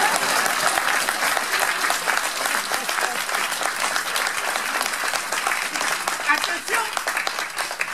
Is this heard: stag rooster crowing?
no